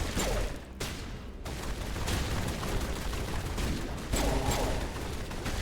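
Sustained video game gunfire rattles in overlapping bursts with booming impacts, dense and continuous with brief dips in intensity.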